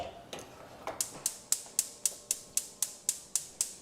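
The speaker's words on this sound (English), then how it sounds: "Sorry about the beeping." A kitchen appliance in use while food is reheated on the stove gives a steady series of about a dozen short, sharp beeps at an even rhythm, close by and moderately loud over faint room noise.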